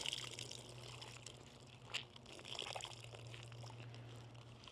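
Water drips and trickles faintly from a squeezed-out microfiber towel during a rinseless car wash, a few soft, quiet spatters over a low steady hum.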